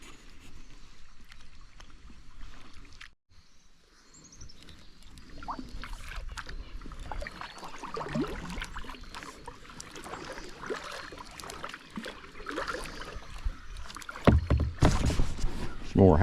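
Kayaks paddle along a scenic river near limestone bluffs, with soft water splashes and dribbles over a breezy, wind-buffeted background, close to the microphone and growing louder near the end.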